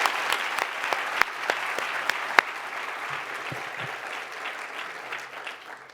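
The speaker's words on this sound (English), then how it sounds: "I want everyone to give them a round of applause again and congratulate them." An audience claps at a corporate event, a dense round of applause with a few sharper near claps early on, holding steady and then easing off slightly toward the end.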